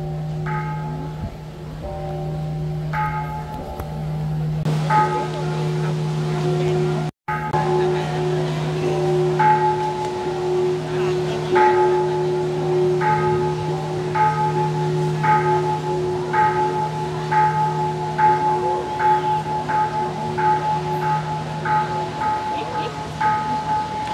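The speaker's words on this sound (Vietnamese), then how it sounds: "trong chánh điện của chùa đang chổi ba hồi chuông cổ" An ancient temple bell rung three rounds in the main hall of a pagoda during a memorial ceremony, giving repeated resonant strikes with long sustained ringing tones over a steady low drone.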